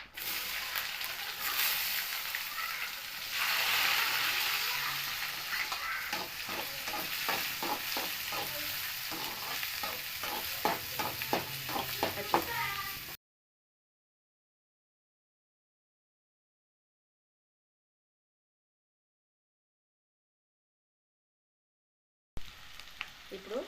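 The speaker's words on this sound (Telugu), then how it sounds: "ఆనియన్స్ వేస్తున్నా." Sliced onions sizzle in hot oil in a pan in a home kitchen, with a steady frying hiss and rhythmic stirring scrapes close up, then a stretch of silence before the sizzle briefly returns.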